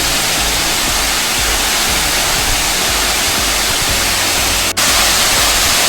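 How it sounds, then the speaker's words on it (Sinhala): The roughly 40-metre Nalaganella waterfall roars as loud, dense, unbroken white noise up close, with no voices over it. "ඒ වගේම මේ ඇල්ල මීටර 40ක් පමණ උසයි"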